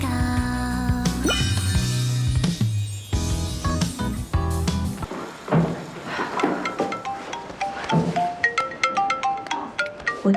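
A phone rings with a melodic ringtone, its bright repeating tones and chimes following a stretch of music, loud and close with no talk over it.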